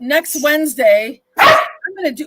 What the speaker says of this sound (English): He sneezed and he barked